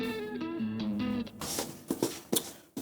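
Electric guitar recorded with the bridge pickup coil-split, playing a short run of clean, bright picked notes before several sharp, muted percussive strums, heard alone without talk.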